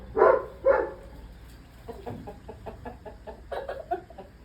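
Two roosters and a hen cluck close by, starting with two loud squawks and followed by a quieter run of soft, rapid clucks that ends with a few louder calls.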